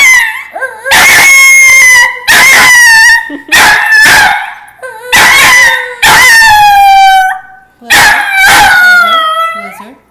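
A dog howls in five long, loud, wavering bursts separated by short pauses, with a person's voice in the background at moments.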